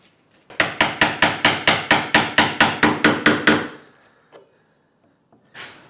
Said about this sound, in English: So we just have to knock through these mortises and match this angle as we're knocking it out